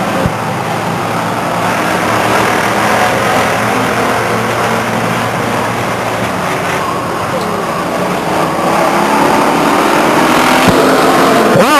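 Pure stock race cars roar around the Stockton 99 Speedway oval, a continuous engine drone with rising and falling pitch sweeps as cars pass, heard under a race announcer's steady commentary.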